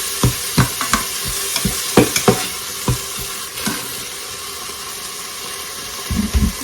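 Onions sizzle as they soften in a Cosori 5.7 litre pressure cooker while a spoon stirs them, bringing a run of close, clattering scrapes over a steady loud frying hiss, with no talking.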